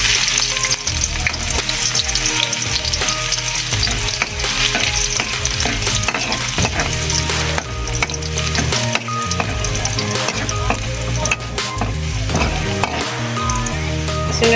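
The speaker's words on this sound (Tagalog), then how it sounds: "Gisa na natin yung bawang." Garlic sautéing in hot cooking oil in a pan, a continuous loud sizzle with scraping stirs and clinks from a utensil throughout, no talking.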